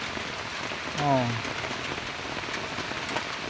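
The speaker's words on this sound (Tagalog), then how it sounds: "Alas 8 na, maulan-ulan guys dito." Steady morning rain falling outdoors, a constant broadband hiss of drops at even level throughout, with a brief voiced exclamation from a person partway through.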